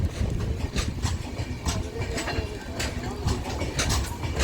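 Island Express train standing at Nagercoil Junction, heard from on board as a dense rumble with repeated clacks and knocks, with voices and station noise running throughout.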